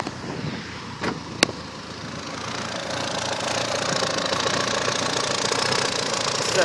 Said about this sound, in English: all of a sudden my motor starts making retarded noises